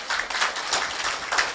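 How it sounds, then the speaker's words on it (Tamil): An audience at a Thirukkural festival ceremony claps briefly, a dense burst of applause at moderate loudness with no talking over it. "கரகோஷம் ஒலிக்கட்டும்."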